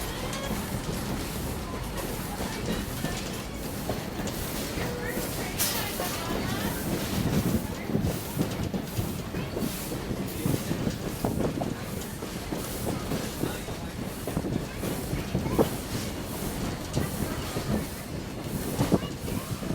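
Carriages pulled by a steam train rumble and rattle steadily along the rails, with a continuous clatter of wheels throughout. Voices talk now and then over the noise.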